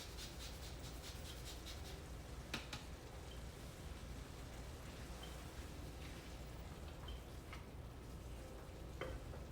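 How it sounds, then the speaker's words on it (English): Risotto bubbling and being stirred in a pan while a lemon is grated on a microplane, a steady close sizzling texture with scraping strokes and occasional sharper taps throughout. "Trying to constantly stir and microplane a lemon is proving to be a challenge."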